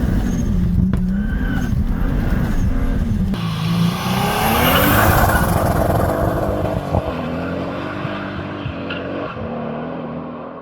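A turbocharged BMW E30 with a worn 25% limited-slip differential that isn't locking properly accelerates hard, its engine roaring loud and close as the tires squeal and skid, then the sound gradually fades as the car pulls away.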